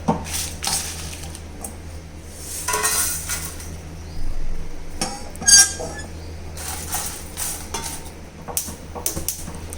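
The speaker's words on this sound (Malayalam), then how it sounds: "ഈ മുളക് നമുക്ക് വേറൊരു പാത്രത്തിലേക്ക് മാറ്റാം" Roasted dry red chillies, cooked until brittle for homemade sambar powder, are tipped into another metal vessel, giving scattered clinks and scraping rattles of metal pans and utensils, close and moderately loud in a quiet kitchen.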